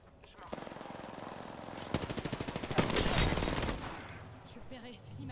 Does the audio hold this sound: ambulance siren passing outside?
no